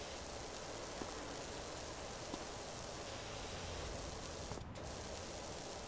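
Pressure washer in a PowerWash Simulator game, a constant hissing spray of dense broadband noise that runs unbroken and fairly quiet, with a brief dip near the end.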